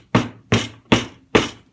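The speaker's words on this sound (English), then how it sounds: "give it a couple swats with the hammer" Four evenly spaced hammer taps drive a pointed 3D-printed plastic spire into place, each a crisp, close knock with a short decay.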